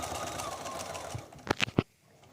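Sewing machine stitching quilt fabric right up to a seam, a few short quick mechanical bursts near the end after quiet background hum, fairly faint and close.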